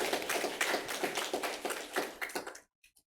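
A church congregation at a Sunday service applauding, close dense clapping for about two and a half seconds that then stops abruptly, leaving a few faint taps.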